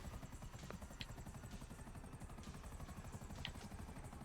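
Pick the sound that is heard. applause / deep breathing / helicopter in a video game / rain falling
helicopter in a video game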